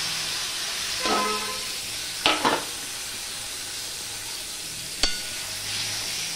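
Raw mango pieces tipped into hot oil with browned tempering spices for a Bengali chutney give off a steady, close hiss of sizzling, with a few short louder bursts as the pan is stirred.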